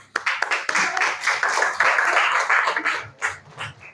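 A classroom group claps for the first presenting group, a steady burst of hand applause lasting a few seconds before tapering off into scattered claps.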